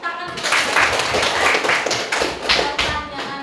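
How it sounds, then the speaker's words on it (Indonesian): Classroom applause: a burst of dense, fast clapping from students in a room, steady and fairly loud for a few seconds, with voices faintly mixed in. "Kasih tepuk tangan."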